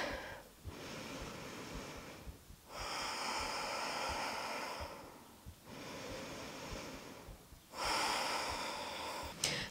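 Deep breathing during a yoga class: slow, rhythmic breaths heard up close, about four long inhale and exhale cycles, each a soft airy rush, with no talking.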